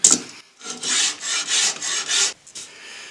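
A hollow wood rasp scrapes in several rhythmic rough strokes, close and fairly loud, with brief pauses between passes.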